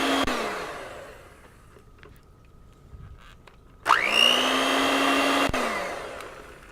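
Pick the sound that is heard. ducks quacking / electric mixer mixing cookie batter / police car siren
electric mixer mixing cookie batter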